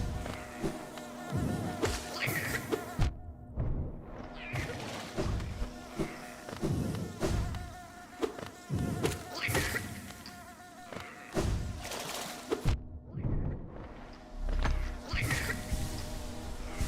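Bees in the video game Hollow Knight buzz steadily under repeated thumps and impacts, with two brief drops to near silence midway.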